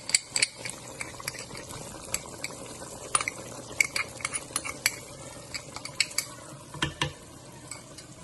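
A spoon or spatula stirs chicken karahi masala in a pan, sharp metallic scrapes and clinks recurring irregularly over a soft, steady sizzle, close and fairly quiet, without talk.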